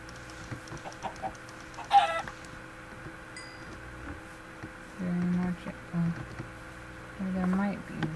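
Chicken clucking in a video game, heard as a few short low bursts in the latter half of the clip over a steady game ambience, with occasional talk.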